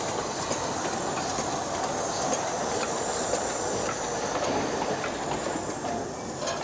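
A steam locomotive train arrives at Huanchuan Station in China, a continuous close rumble of wheels and carriages with steady hiss and faint clatter, no voices.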